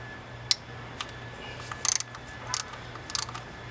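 Ratchet working a small bolt on a BMW N52 VANOS solenoid loose, a few faint crisp clicks in irregular bursts against a quiet background.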